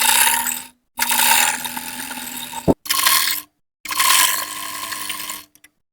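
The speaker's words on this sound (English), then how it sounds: "So see the way I sew the strap for this." A sewing machine stitches a fabric strap for a ruffle autogele, running in three close mechanical bursts with short pauses between them and a sharp click near the end of the second run.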